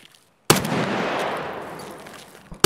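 A long burst of automatic gunfire in the Escape From Tarkov shooter game, loud and close, rattling for about two seconds before a brief final shot, after near silence.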